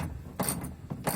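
Ratchet cranking on a seized sway bar end link of a 2009 Dodge Ram 2500, heard as two bursts of close, loud mechanical clicking separated by short pauses.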